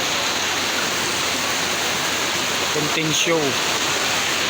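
Heavy rain falls in a steady loud hiss throughout, close and continuous, with a brief voice speaking over it near the end.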